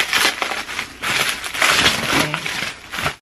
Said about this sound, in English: I know some people doesn't want to hear the plastic